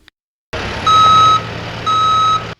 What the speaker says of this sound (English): Construction noise reverberates across the Virginia Military Institute campus